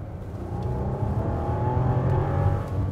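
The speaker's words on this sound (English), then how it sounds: "when you really stick your foot in it, there's a lag before the engine really comes on." A 2017 Bentley Bentayga engine accelerates under load with a steady, deep drone and rising road and wind roar, heard from inside the cabin without a break.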